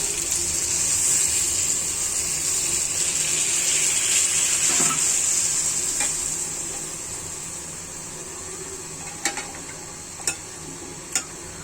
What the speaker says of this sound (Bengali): পানি অ্যাড করে দিচ্ছি